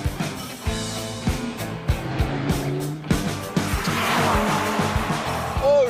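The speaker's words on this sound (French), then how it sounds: "Les freins céramiques, ils freinent bien." Sports car with ceramic brakes braking hard on a track, tires squealing over a loud, revving engine with repeated gear shifts, close and continuous throughout.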